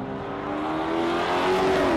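A street car at a drag race accelerates hard, its engine roaring loud and close with rising pitch, a continuous building scream that swells toward the end, with no speech over it.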